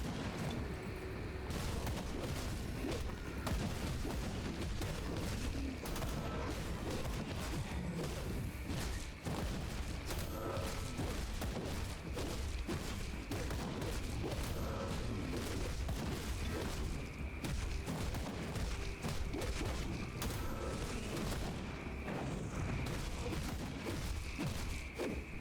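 Gunfire from gun-wielding zombies in Grim Dawn, a dense, nonstop barrage of booming shots and thuds layered with battle noise, loud and close throughout with no voices.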